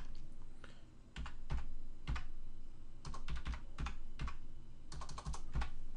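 Someone types a number on a computer keyboard in bursts of quick keystrokes separated by short pauses. The keys sound close and crisp over a quiet room.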